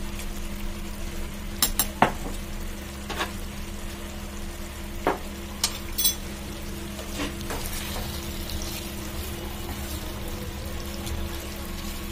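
Masala is stirred into chicken curry sizzling in the pan, a steady frying hiss with several sharp spoon clicks and scrapes against the pot, no voices.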